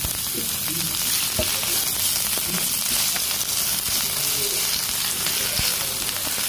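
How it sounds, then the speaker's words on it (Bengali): Mustard greens sizzle and fry in hot oil, a steady close crackling hiss with occasional stirring clicks throughout, no voices. "সরিষার শাকগুলোকে গরম তেলে ভালো করে ভেজে নিতে হবে।"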